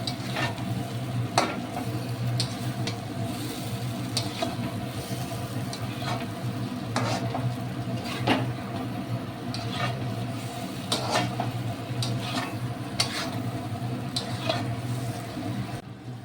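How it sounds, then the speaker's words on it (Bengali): Fried potatoes being stirred with spice paste in a pan for a coconut prawn curry, a continuous low sizzle punctuated by regular scraping strokes of a spatula, close up, no speech. "এবার মশলাগুলো ভাজা মশলা ভালো করে মিশিয়ে আবার একটু কষিয়ে নেব"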